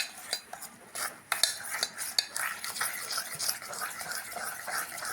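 A spoon scrapes and clicks around a bowl, mixing dhokla batter with chili, turmeric, coriander-cumin powder and salt in a quick, irregular rhythm of close, fairly quiet taps and swishes, with no voices.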